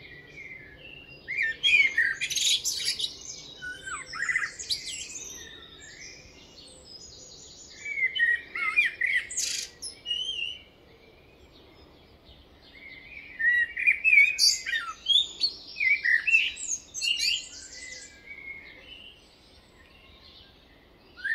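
A blackbird sings its morning song in clear, varied phrases, with three bursts of warbling and whistles separated by short pauses, close and fairly loud over a faint background.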